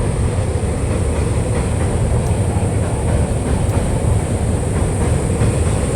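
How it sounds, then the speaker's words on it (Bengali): A passenger train bound for Lalgola rolls past close by, a loud, steady low rumble of wheels on rails with faint rhythmic clatter sustained throughout. "এটা লালগোলায় যাচ্ছে এই ট্রেনটা।"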